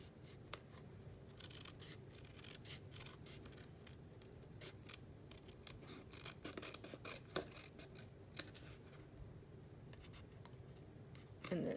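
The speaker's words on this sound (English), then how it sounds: "I can take out my snips and just follow along" Snips cutting paper card stock along an envelope flap, faint close crisp snipping and rasping strokes in an irregular series, quiet and without talk.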